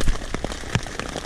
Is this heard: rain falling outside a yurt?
yes